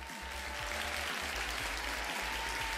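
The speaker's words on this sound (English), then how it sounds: "big old round of applause" Applause from an in-game crowd in a farming simulator, steady and fairly loud throughout with dense clapping texture, a low droning hum running beneath it.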